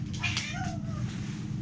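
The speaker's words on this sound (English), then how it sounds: "this is my cat photo bombing" A cat meows once, close and fairly loud, a drawn-out falling call over a steady low hum of room noise.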